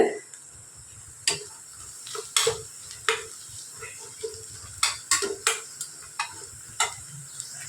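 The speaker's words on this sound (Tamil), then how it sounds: "கொஞ்சம் சிம்மில் வச்சு தான் நல்லா வதக்கணும்" Manathakkali (black nightshade) sautéing in sesame oil over a low flame, with a soft steady sizzle and repeated sharp spatula scrapes and clinks against the pan at an irregular rhythm, close up.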